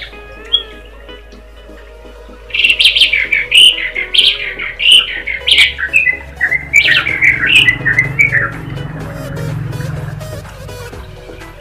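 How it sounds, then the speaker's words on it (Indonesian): Birds chirp and tweet in a lively cluster of calls beside an ornamental arowana fish pond, starting faint and then rising to a steady, fairly close chorus over low background hum. "Sambil mendengarkan suara burung,"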